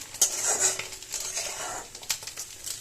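A spatula scraping and clinking in a pan as eggs are stirred through leftover rice, a brisk burst of metallic stirring with a light sizzle underneath.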